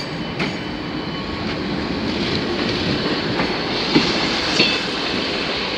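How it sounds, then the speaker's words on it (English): An East Midlands Class 158 diesel unit from Norwich and Nottingham rolls into Liverpool Lime Street with a steady rumble, rail clatter and brief squeals from the wheels. It stays close and continuous throughout, with no voices. "Now pulling in is East Midlands train service from Norwich and Nottingham"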